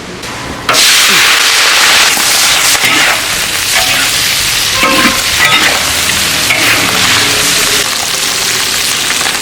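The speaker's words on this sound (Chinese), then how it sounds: "好了，炒菜" A wok of chilli-fried cured fish sizzles loudly and continuously once stir-frying begins, with a spatula scraping and clattering in irregular strokes over a steady, close hiss.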